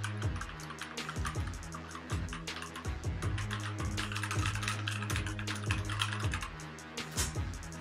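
A Keychron K2 V2 mechanical keyboard typed on steadily, with quick, close clacks of the WASD keys in an uneven rhythm over a faint low hum.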